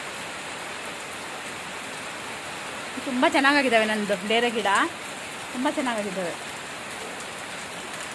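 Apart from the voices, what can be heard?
rain falling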